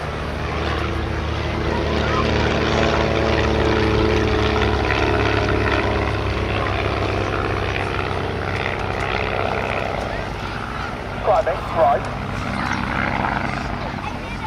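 Pair of aircraft flying in close formation at an air festival, making a belly pass: a loud, steady propeller and engine drone that fills the whole span, with announcer talk over it and brief bumps near the end.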